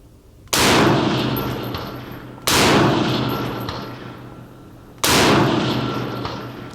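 Three loud, sharp gunshots about two seconds apart from a 6mm ARC gas-operated rifle with its gas setting half closed and a reduced-power spring, each report ringing out with a long decaying echo outdoors.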